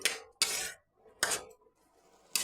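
Spatula stirring and scraping turmeric, chili, coriander, cumin and cinnamon powders with cauliflower and potato in a pan: four loud, sharp scraping bursts spaced by short quiet gaps, close up with no talk.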